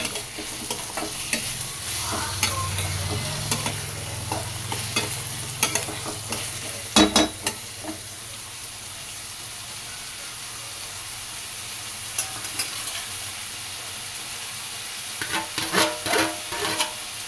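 Brinjal palya with coriander powder stirred in a hot pan, a soft steady sizzle broken by scraping spoon strokes and occasional clinks against the metal, no voices.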